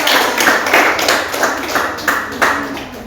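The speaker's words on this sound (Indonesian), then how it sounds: "kita berikan tepuk tangan untuk kelompok kedua" A classroom group claps together for the second team of presenting students, a steady, fairly loud patter of many hands with a few stronger bursts, lasting about three seconds.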